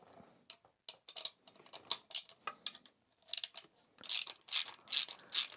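A 10 mm ratchet wrench clicks in short, quick bursts of pawl ratcheting while undoing the nut on a motorcycle turn signal, close and fairly quiet, growing brighter and more rapid toward the end.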